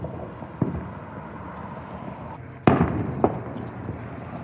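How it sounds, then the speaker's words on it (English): Fourth of July fireworks and firecrackers pop in the distance, with a few sharp cracks standing out, one especially loud burst followed by a smaller one, over a steady rumble of outdoor noise. "I can see some smoke fumes coming up in the air from all those firecrackers and poppers and such."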